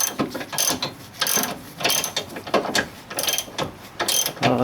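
A ratchet wrench clicks in rapid repeated bursts while loosening an 18 mm lower ball joint bolt on a 1998 Chrysler Cirrus, loud and close with brief pauses between strokes.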